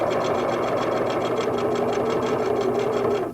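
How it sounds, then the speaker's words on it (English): A Singer sewing machine runs steadily for about three seconds, straight stitching a seam through pieced quilt squares, its needle clattering in a fast, even rhythm up close before stopping abruptly. "place them under the sewing machine, lower the needle, back tack, and straight stitch down the seam."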